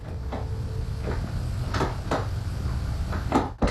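A door handle rattles in a newly built apartment building, with several separate clattering jolts spread across the moment, loud and close over a steady background hum, with no talking.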